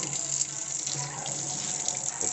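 A faucet in a Chicago home runs steadily into a sink, a continuous close splashing rush of tap water with no pauses.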